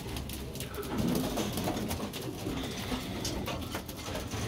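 Pigeons coo softly in a small pigeon loft, low murmuring calls repeating over a rustling, noisy background with no talking.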